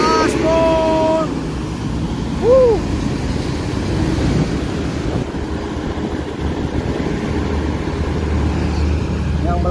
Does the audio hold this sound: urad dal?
no